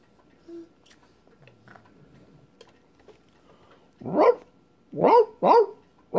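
After a few quiet seconds of faint background sounds, a dog barks three times, loud and close, the last two in quick succession.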